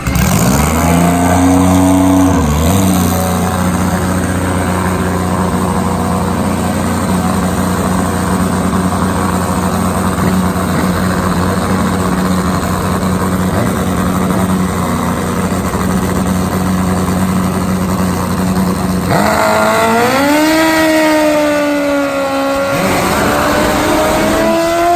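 A Top Fuel nitro drag motorcycle engine idles with a loud, steady throb for a long stretch, then blips its throttle in a few sharp revs near the end.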